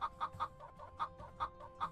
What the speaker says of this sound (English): Can you hear my cock, lovely people?